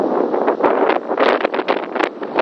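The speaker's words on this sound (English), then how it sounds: "So you're just going to hear shitloads of wind." Strong wind buffeting a microphone outdoors, a loud, continuous rumbling roar with gusty surges and brief dropouts.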